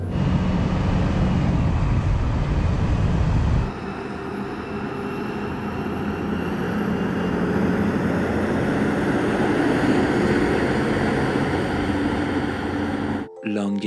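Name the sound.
Mercedes Actros and Scania R500 trucks drag racing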